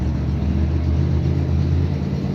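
Dodge Demon drag car at a Bonfire Salute drag race, its engine a steady, loud low rumble throughout with no talk.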